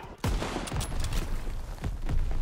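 Gunfire during the Operation Cobra mission of the Call of Duty WWII video game: a quick run of sharp, booming rifle shots and bursts over about two seconds, loud and close, with no voices.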